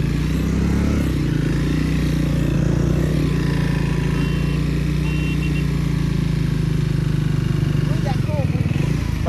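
Motorcycles race through Joypur forest, producing a continuous loud engine drone that holds steady for the whole stretch, with voices faintly present beneath it.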